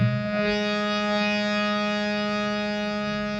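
The note Pa rings alone as a steady, sustained tone with many even harmonics, a brief shift at the start, then holding at a constant, fairly soft level with no talking.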